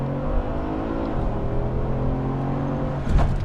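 A 2016–2017 Mercedes-AMG C63 S launches under launch control, its engine producing a steady loud roar with a surge near the end, and no one speaks.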